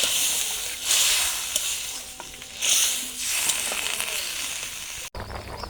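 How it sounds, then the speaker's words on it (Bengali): Katla fish curry with cauliflower sizzles in a pan as gravy is poured in, broadband hiss swelling in waves with stirring scrapes, close and steady, ending in a brief cutoff. "এখন ঝোলটা দিয়ে দেবো।"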